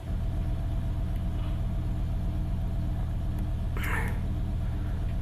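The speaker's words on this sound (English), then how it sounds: "looks that the engine is running a little bit smoother" A 2005 BMW M5 with its S85 engine, earlier misfiring, runs steadily at idle with a constant low rumble and harmonic hum, a brief higher whoosh near the end.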